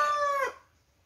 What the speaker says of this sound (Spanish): Ese gallo, de verdad, que me interrumpe.